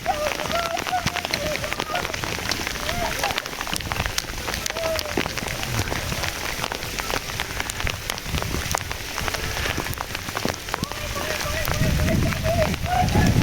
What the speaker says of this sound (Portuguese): Repentinamente, a chuva congelada aumentou a intensidade